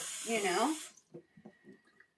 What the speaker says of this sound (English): I can still turn on the hot water and I get water